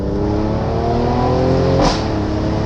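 A 2017 Mercedes C43 AMG Cabriolet with 4MATIC all-wheel drive, its engine revving steadily under load and then blipping sharply on a downshift, heard from inside the car with no talking.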